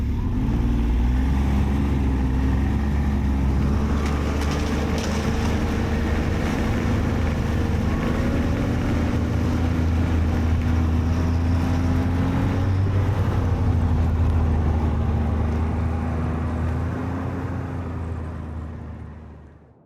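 Machine engine droning steadily through a strong Alaskan blizzard, a loud continuous low rumble with a steady hum and wind noise over it, fading out at the end, with no talk.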